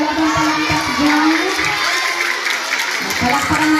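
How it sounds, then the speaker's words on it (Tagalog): Audience at a school science culminating activity with a costume presentation applauds and cheers, a dense crowd roar with clapping and children's shouts, loud and sustained, with a voice speaking over it. "Palakpakan natin yung mga nag-effort para makapag-present sa kanilang costume."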